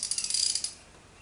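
A quick burst of close ratchet clicks as T50 Torx anchors are undone beneath the carpet of a 1986 Fox-body convertible, crisp and bright, fading after about a second.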